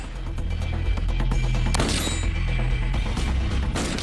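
M4 rifle firing three rounds downrange, sharp loud cracks over a dense low rumble, a heavy burst standing out near the middle with ringing decay, close and prominent with no talk.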